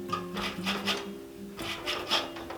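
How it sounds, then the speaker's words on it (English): Orange zest grated off the peel with a microplane, heard as rhythmic rasping strokes, several in a row, close and fairly loud over a faint background hum, with no one speaking. "So I'm going to zest each orange."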